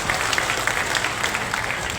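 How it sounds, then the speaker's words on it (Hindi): Audience clapping at a Hindi-language speech, a dense, steady burst of applause from a crowd filling the whole short stretch at moderate loudness. "ताली बजाओ।"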